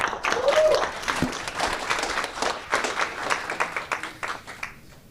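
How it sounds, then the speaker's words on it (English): A meetup audience at an AI hackathon event gives a round of applause, dense clapping that starts loud and gradually thins out, with a brief voice at the start. "Could I get one more round of applause for Jack?"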